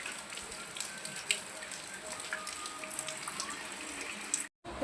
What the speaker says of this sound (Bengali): দেখেছো বন্ধুরা বৃষ্টি।